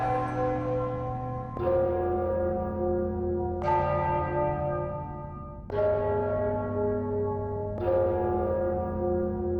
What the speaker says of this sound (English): I'm sure the bells have something to do with the riddle.